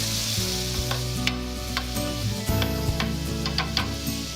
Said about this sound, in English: Let's put in the leeks.